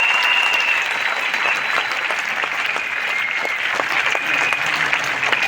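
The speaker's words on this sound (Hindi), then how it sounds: "एक बार जोरदार तालियां।" Audience in a business meeting hall breaking into loud, sustained applause, dense clapping that holds steady throughout without talk.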